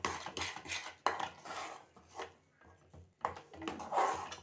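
A utensil scraping and stirring a coconut laddu mixture of fresh coconut, desi ghee and cardamom in a pan, repeated soft rasping strokes in uneven bursts, close and quiet with no talking.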